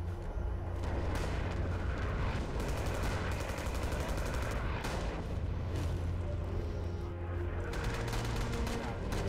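Artillery fire in the World War II shooter Rising Storm, a continuous rumble of heavy blasts and booms rolling across the battlefield, loud and dense with repeated impacts and no clear pauses.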